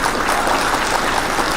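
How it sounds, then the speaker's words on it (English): Audience applause at a live community news show, a steady dense patter of clapping held at even loudness from start to finish with no voices over it. "can we get a clap for that?"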